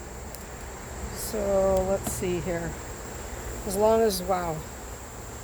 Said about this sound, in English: That's a lot of bees. Look at those bees in there.